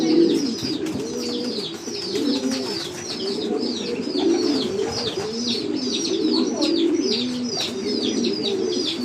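Pigeons coo repeatedly in overlapping low, rolling calls, close and fairly loud, mixed with higher chirps and a faint flutter of wings.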